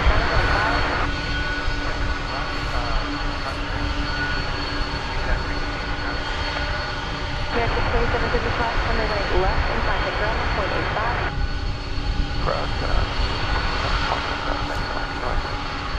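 Jet airliner engines roar steadily at DFW Airport during a morning plane-spotting session, a continuous loud broadband rumble with shifting intensity throughout, with a voice talking over it.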